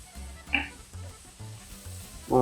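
Raw plantain thoran being sautéed in a pan, with soft sizzling and a few spoon-stirring scrapes, growing louder near the end.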